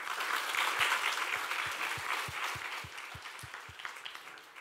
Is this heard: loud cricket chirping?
no